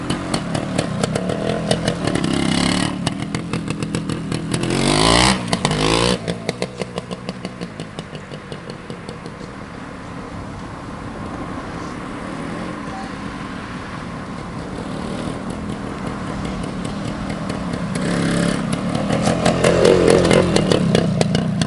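A 1973 Suzuki TS250K Savage motorcycle rides past, its two-stroke engine rising to a loud buzz, fading into a steady distant drone, then swelling again as it returns near the end.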